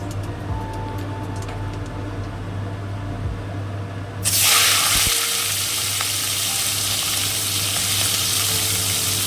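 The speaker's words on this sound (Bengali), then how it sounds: "তেলটা গরম হয়ে যায় চিংড়ি মাছটা হলুদ মাখিয়ে একটু ভেজে নেব হালকা" Turmeric-coated shrimp hit hot oil. Low kitchen hum suddenly gives way to a loud, bright, continuous sizzle that holds steady for the remaining five seconds.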